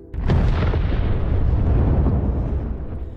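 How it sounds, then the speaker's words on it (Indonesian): A big, booming explosion in an action film, nitro going off in a storage site, bursts out and rolls on in a long, heavy rumble that slowly fades. "di tempat penyimpanan tadi ada 1 nitro yang terjatuh dan membuat ledakan besar"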